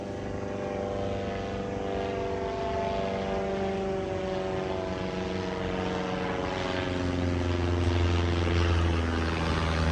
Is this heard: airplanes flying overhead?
yes